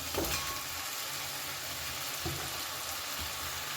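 Fish heads that were fried earlier are being sautéed in a spice paste in a pan. A steady, moderate sizzle and frying hiss runs throughout, with a few stirring knocks, and no one speaks.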